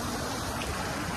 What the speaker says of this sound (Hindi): इतना अच्छा पानी आ रहा है।